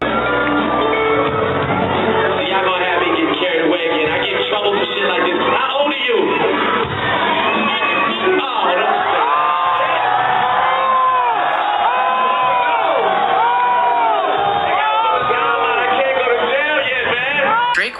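Crowd at a 2010 concert, shouting and cheering loudly and continuously, with whoops and voices rising over the din.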